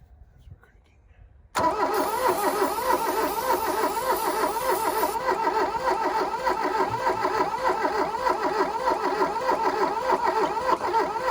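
A 1982 Volkswagen Rabbit diesel pickup engine cranks after a quiet moment, turning over steadily with a rhythmic, loud churning that persists for several seconds without clearly catching.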